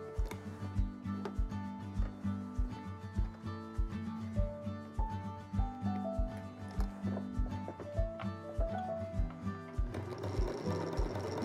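A Singer 221 Featherweight sewing machine runs steadily while making locking stitches, its needle thumping in a fast, even rhythm with mechanical whir, close and alone.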